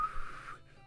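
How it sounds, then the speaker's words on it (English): A person tries to whistle, producing a brief, breathy, airy whistle that holds a thin tone for about half a second before fading out, close and faint. "God, I'm bad at whistling."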